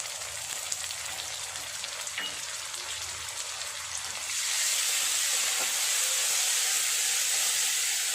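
Ginger garlic paste dropped into frying onions for chicken do pyaza, a quiet low sizzle that suddenly swells into a loud, bright, steady hiss halfway through and stays close and strong to the end.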